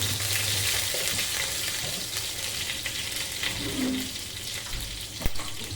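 Mustard seeds splutter in hot oil, a steady hiss of crackling with scattered sharp pops throughout, close and fairly loud.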